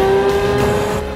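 A Lexus LFA sports car engine revs hard and high, the pitch climbing and sustaining in a loud, close, piercing wail.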